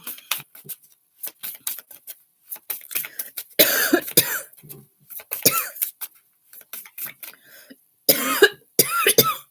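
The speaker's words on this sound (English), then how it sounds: "That was a hard cough." Several hard, harsh coughs burst out close by, some in quick clusters, separated by short gaps and raspy throat sounds.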